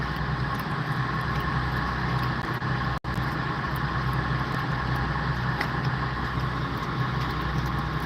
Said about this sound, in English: look at that car beside you